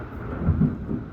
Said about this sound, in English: crazy thunderstorm, typical Florida